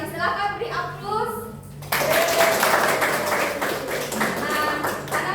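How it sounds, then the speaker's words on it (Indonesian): Classroom applause from vocational high school students during a civics microteaching lesson, starting abruptly as a burst of mixed clapping after a teacher's voice, continuing steadily near and loud. "Silakan beri aplaus."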